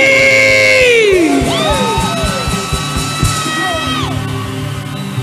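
A church ministration crowd at a Nigerian worship event cheers, whoops and screams loudly and continuously, with rising and falling shrieks over a dense roar and no clear speech.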